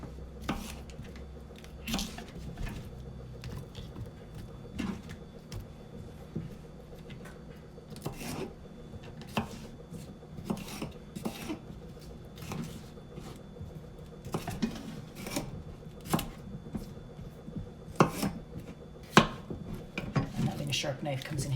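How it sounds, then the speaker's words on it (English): Bell peppers being hard-chopped into big chunks with a sharp knife for roasting: irregular sharp knife strikes against a cutting board, fairly quiet and close, with soft handling noises between and no talk. "these I'm just going to hard chop into big chunks"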